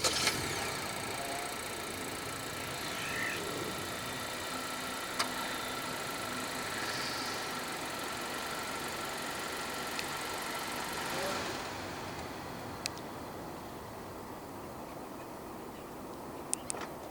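A 2023 Honda Accord 1.5 turbo engine idles quietly after a remote start, a low steady hum heard from outside the car with faint clicks and a slight shift in tone partway through.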